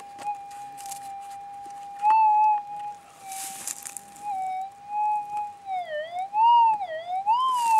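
A Minelab GPX 4500 metal detector's steady threshold tone swells and warbles into rising and falling whoops as the coil passes over a gold nugget, clear and close against a quiet outdoor background.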